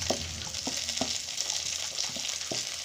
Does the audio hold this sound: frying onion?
yes